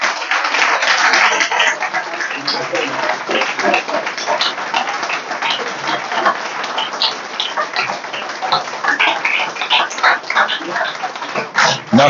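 An audience at an Ivorian local-election results address applauds with loose, scattered claps that thin and swell over several seconds, some sharp individual hand strikes standing out near the listener.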